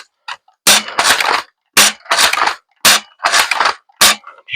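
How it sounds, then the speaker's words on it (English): Rapid shots from a Ceda S airsoft gun fired at a soft target come in four quick bursts, each a cluster of close, sharp cracks separated by short pauses. "Just trying some fast shots."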